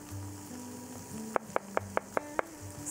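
Steaks sizzling in a hot frying pan with a steady hiss, joined by a run of six evenly spaced sharp knocks partway through, close and fairly loud.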